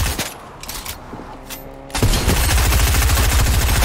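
Gunfire in the Fortnite video game: scattered quieter shots at first, then a sudden loud, sustained burst of rapid automatic fire with dense booming reports, close and intense, no talk.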